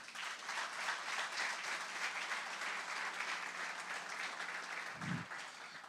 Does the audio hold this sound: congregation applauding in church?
yes